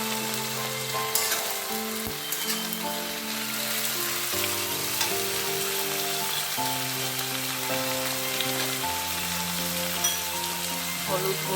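Capsicum and carrot sizzle steadily in a pan for vegetarian khichuri, a constant loud frying hiss that runs the whole time under background music.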